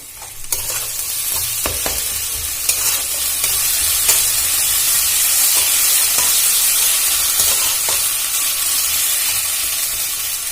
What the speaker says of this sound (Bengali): আমি এর মধ্যে আদা রসুন বাটাটা দিয়ে দেবো দিয়ে আবারও একটু ভালো করে ভেজে নেব